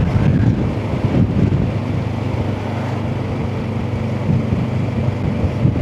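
Strong wind buffeting a camera mounted on the side of a motorcycle helmet, a loud, continuous low rumble with gusty fluctuations throughout and no speech.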